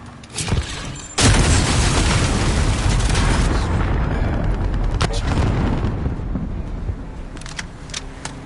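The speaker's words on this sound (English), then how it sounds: "Enemy cruise missile incoming." Cruise missile explosions in a PS4 multiplayer shooter: a heavy booming blast swells after a brief lead-in and rumbles on loudly for several seconds, with scattered gunfire cracks layered on top.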